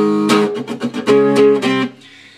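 Electric guitar riff of strummed bar chords from a song, with rhythmic chugging stabs and muted gaps between chords, loud and close, played alone before ringing off.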